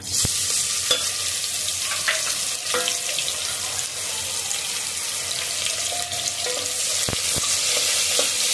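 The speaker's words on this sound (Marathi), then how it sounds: "कांदा छान लाल करून घेऊया फोडणीसाठी" Steady sizzling of onion frying in hot oil for tempering, with occasional clinks and stirring sounds over the continuous hiss.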